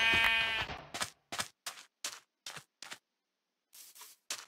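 Sheep in Minecraft bleat once in a drawn-out cry, followed by a quick run of short clicks and pops and a final pair of brief sounds, all close and clear with no talking.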